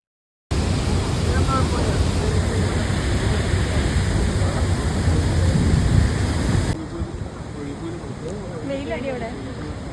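A loud, continuous rush of Athirappilly waterfall fills the air, dropping abruptly to a softer roar partway through, with voices faintly audible underneath.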